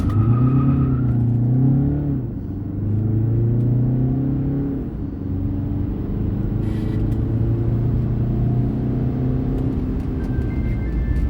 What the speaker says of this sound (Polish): zmierzymy sobie od 0 do setki Peugeota